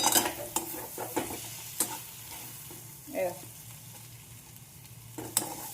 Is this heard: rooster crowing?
no